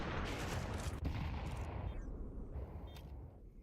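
Gunfire in a professional Counter-Strike match, a dense burst of loud rapid shots and impacts that tapers off into quieter scattered cracks, with no talk over it.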